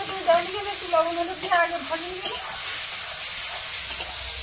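Potatoes fry in a pan in a Sundarban home kitchen, a steady bright sizzle running throughout, with a brief voice-like sound near the start.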